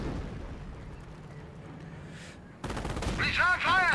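Gunfire in the World War II strategy game Company of Heroes, a muffled low rumble that gives way to a louder, sharper burst of rapid shots and clattering fire, with speech mixed in.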